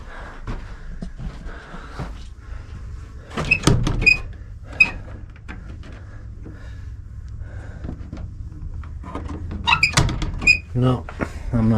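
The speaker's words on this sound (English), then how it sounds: "Let's see if we can go out this door." An old door in a historic ghost town building being opened, a few short creaks and squeaks over faint background noise, followed by a second burst of squeaks near the end.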